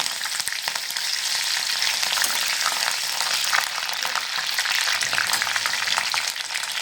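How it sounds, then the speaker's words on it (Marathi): Green chillies frying in hot oil where mustard seeds have already popped, a steady loud sizzle with crackling running unbroken throughout and no voices. "आता आपण मिरच्या टाकून घेऊया मिरच्या पण एक मिनिटभर तेलात थोडस परतून घेऊया"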